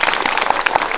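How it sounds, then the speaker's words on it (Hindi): A school audience of students claps in a dense, steady burst of applause that fills the whole moment at close range. "ताली।"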